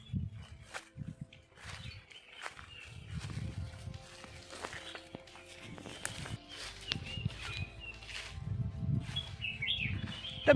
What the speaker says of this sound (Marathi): या ठिकाणी तुम्हाला पक्ष्यांचा किलबिल आवाज येत असेल